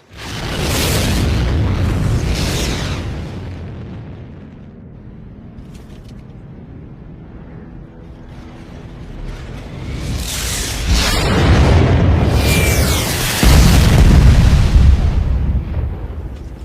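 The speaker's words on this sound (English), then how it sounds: "Tornado team's rockets are on their way." Rocket explosions in an animated action scene, heavy booming blasts that open loud, fade into a low rumble, then swell again into a second, louder series of deep explosions near the end.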